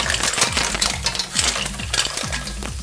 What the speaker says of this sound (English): it's time to add the mussels